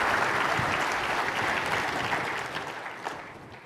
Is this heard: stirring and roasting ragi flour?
no